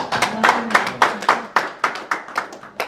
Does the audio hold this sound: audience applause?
yes